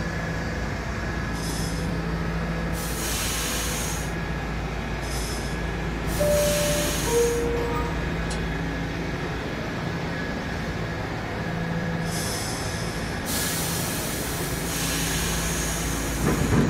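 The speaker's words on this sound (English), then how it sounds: "This is a Brooklyn-bound B train." A Brooklyn-bound B subway train in the openBve simulator at 103rd Street, with a steady rumbling run and rail noise throughout, plus a few bursts of hiss or squeal, loud and close with no talking.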